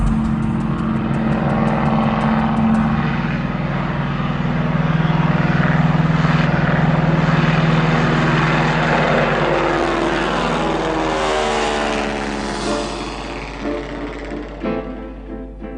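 A vintage 1928 propeller airplane drones steadily in flight, a loud continuous engine and prop hum that swells in the middle and eases slightly toward the end, with no talking.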